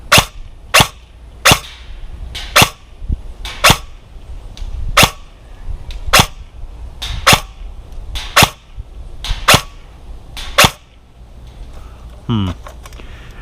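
An airsoft gun, a Lancer Tactical Needletail, fires about a dozen sharp, crisp shots at a fairly steady pace, each one loud and clear. Quieter mechanical clicks sit between the shots.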